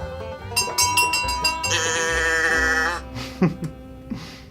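A cow moos inside a fine-dining restaurant, a loud, drawn-out bellowing call followed by a few shorter grunting sounds as it trails off.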